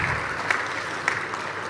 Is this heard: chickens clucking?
no